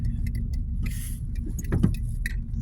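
A car rolls down a residential street in Trenton's Glen Afton neighborhood, its engine a low, steady rumble heard from inside the cabin, with a few light rattles on top and no talking.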